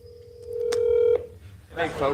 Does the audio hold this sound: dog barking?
no